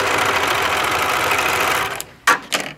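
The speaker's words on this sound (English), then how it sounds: "I'm going to serge the inside leg seam right here." A serger stitching the inside leg seam of a pair of boxers runs in a fast, steady mechanical whir for about two seconds, then stops, followed by two brief clicks or short bursts.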